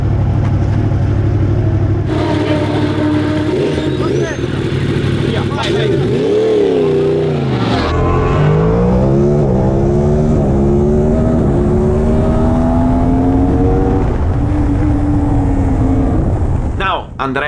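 Yamaha R1 racing motorcycle on the Cartagena circuit during an endurance race, engine note climbing through gears with sweeping pitch rises, loud and close, then fading to a steadier drone.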